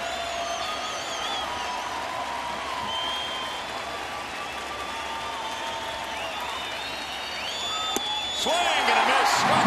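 A sellout crowd of about 41,686 at a Tigers–Rangers baseball game in Detroit roars steadily throughout, cheering and applauding as a strikeout nears, swelling louder near the end, with a commentator talking over it.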